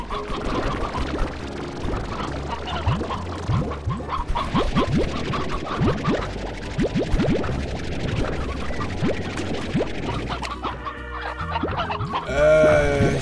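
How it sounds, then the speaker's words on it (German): Chickens cluck in the video game Slime Rancher, a steady run of fowl calls layered over busy game sounds and music that carry on without a break. "Hier, Hühnchen, kommt mal raus."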